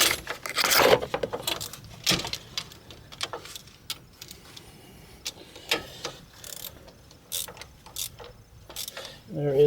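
Ratchet wrench tightening brake caliper bolts on a 2008 Dodge Avenger during a front brake job, with bursts of quick metallic clicks and clanks, close up, scattered irregularly with short pauses between strokes.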